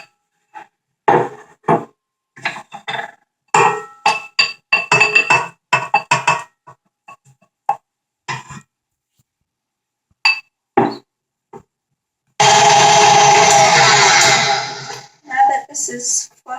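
An electric mixer creams brown sugar and butter in a large mixing bowl, a loud, steady whirring burst for about four seconds near the end, preceded by scattered knocks and clinks of utensils against the bowl.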